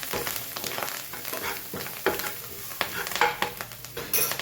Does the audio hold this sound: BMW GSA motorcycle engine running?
no